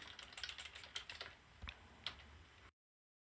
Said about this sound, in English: And you can just start typing text wherever your cursor is.